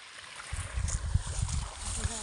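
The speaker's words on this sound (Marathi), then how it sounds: "हे बघा इकडं पाणी चालू आहे" Water from a solar-powered bore pump flowing in a farm field, a soft steady gushing rush under faint background sound, without talk.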